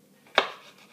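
A single crisp knife chop cuts through cucumber slices on a board while quartering them, a sharp close tap that fades quickly in an otherwise quiet kitchen.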